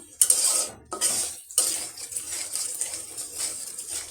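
Spice paste frying in a pan for a hilsa fish dish with mustard paste, with a spatula scraping and clinking against the metal pan in quick bursts over a soft sizzle; no one speaks.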